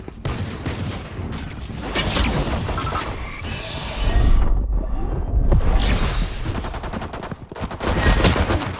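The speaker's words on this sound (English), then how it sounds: "She shot her gun." Rapid bursts of gunfire in a shooter video game, rattling fusillades and heavy impacts overlapping almost continuously, loud and dense throughout.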